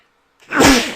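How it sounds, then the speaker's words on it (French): A single sharp sneeze bursts out after a moment of silence, close and fairly loud, then trails off quickly. "ça c'est un éternuement"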